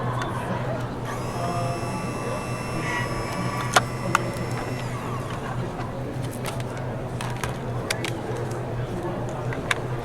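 A Sizzix die-cutting machine runs steadily with a tonal mechanical whine through most of the stretch, the dimensional cutting pad sandwich passing through, while a person talks over it.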